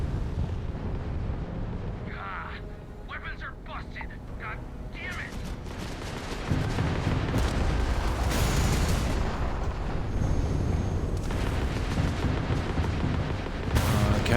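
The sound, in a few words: missiles fired and exploding in space combat, video game Starfield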